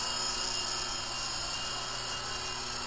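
Interceptor 052 RC helicopter running at full throttle, a steady, loud, high-pitched motor whine with rotor hum, constant and close, no talking.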